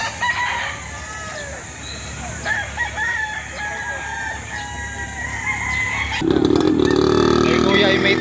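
Roosters crow at a Saturday chicken market in Lipa City, Batangas, several loud nearby calls rising over crowd chatter and market noise, with a harsh engine-like drone taking over near the end.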